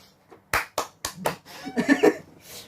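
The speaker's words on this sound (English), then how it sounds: "I appreciate your applause." A few loud, separate hand claps from a small podcast studio audience, followed by brief cheering and shouting.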